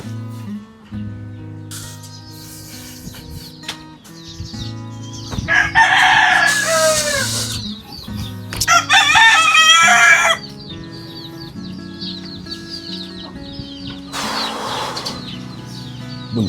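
Chickens clucking with a rooster crowing loudly twice, close by, over a steady bed of background music while the birds are being fed.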